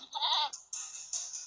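A goat bleats in a video game, a few close, nasal cries in quick succession, loud and clear with no talk.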